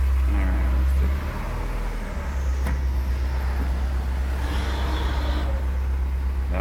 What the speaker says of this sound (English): That was a UPS truck.